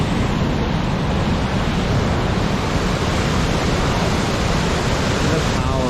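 Steady, dense roar of rushing water at a partly frozen waterfall at Hog's Back, loud and continuous throughout with no pauses, like a powerful cascade close by.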